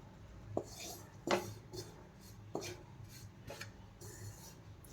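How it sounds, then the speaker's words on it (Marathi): Wheat flour roasting in a pan for halva, stirred with a utensil that scrapes and clinks against the metal in several distinct strokes, soft and close, with no talk. "सतत असं हलवत राहायचं आहे"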